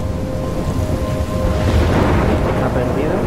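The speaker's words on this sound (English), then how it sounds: "I'm trapped in a storm?" A thunderstorm with steady heavy rain rumbles in the Life Is Strange video game, its dense broadband roar swelling slightly midway, loud and continuous with no talking.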